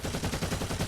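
Tyranid gunfire from the game Warhammer 40k Eternal Crusade: a dense, continuous stream of rapid shots with a heavy low-end rumble, loud and unbroken across the short moment.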